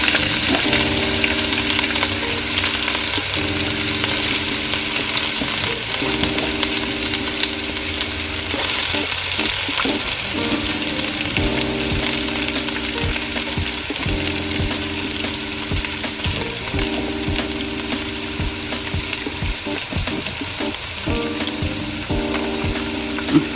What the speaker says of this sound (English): And mid-heat, add onions.